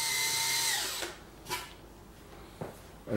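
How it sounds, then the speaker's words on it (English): A power drill bores into a laser dinghy centre board. The motor whines loudly and winds down after about a second, followed by a few short, sharp knocks and scrapes in a quiet workshop. "So be very careful the angle you're drilling in,"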